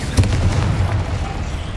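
Incendio, a fire spell in Hogwarts Legacy, goes off with a loud, close burst and a short low rumble that fades quickly, alone without talk.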